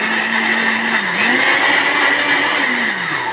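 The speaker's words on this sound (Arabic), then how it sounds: "اخلصها بقى عشان صوت الخلاط" An electric kitchen blender whirs loudly and steadily as it purees fresh strawberries into juice, its motor pitch dipping and rising slightly under the load.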